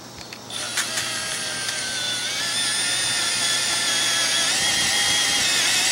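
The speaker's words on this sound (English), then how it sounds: "I'm using a 1/2-inch drill with this mixing wand" A 1/2-inch power drill spins a mixing paddle in asphalt patch with a steady, high-pitched whir that holds continuously after a brief start, with no talking.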